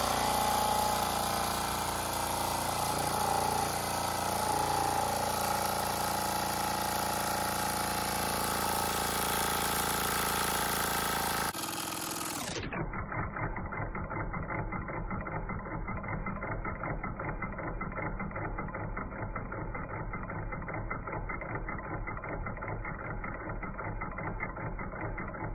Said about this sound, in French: Voilà la machine, alors elle commence à ralentir, peut-être par une baisse de pression